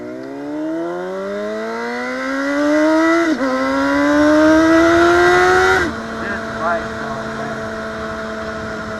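A motorcycle engine revs while the bike is being ridden. Its drone climbs steadily in pitch, dips at a gear change and climbs again, then settles into a steadier hum, loud and close.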